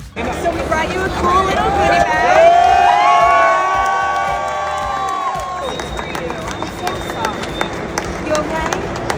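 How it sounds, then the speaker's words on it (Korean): A large baseball stadium crowd at a Phillies game roars and cheers, swelling loudly then easing into a steady hubbub of many voices. "사람들이 환호하죠."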